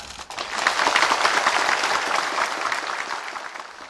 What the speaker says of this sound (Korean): 이제 박수 치셨으니까 약속하신 거죠?